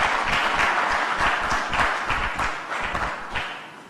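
Audience at a government address applauding, a dense burst of many hands clapping at once, loud and sustained, slowly thinning toward the end.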